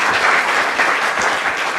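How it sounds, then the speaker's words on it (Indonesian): A studio audience at an Indonesian television talk show claps in a sustained, even burst, close and loud, with no voices breaking through the brief stretch. "Boleh kita minta tepuk tangannya sekali lagi?"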